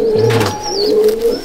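Pigeons in a loft at Sangrampur coo in low, throaty murmurs, with a deeper rolling coo near the start and softer overlapping calls continuing close by over a steady background.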